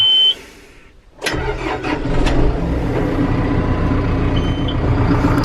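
A farm tractor on a cranberry farm cranks over after a brief warning beep, then catches and settles into a loud, steady engine run heard up close.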